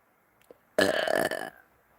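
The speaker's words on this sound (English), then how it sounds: "I just burped." A single loud burp lasting under a second, close to the mic, after a brief quiet lead-in with no talking.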